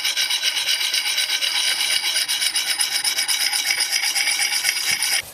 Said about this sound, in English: I just did the coarser grit of the stone to this point